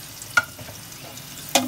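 Sliced onion frying in a pot of oil for pulao, a soft steady sizzle broken by two sharp scrapes of a ladle stirring.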